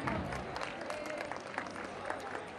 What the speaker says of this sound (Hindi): जोरदार तालियां हो जाए इस ग्रुप के लिए।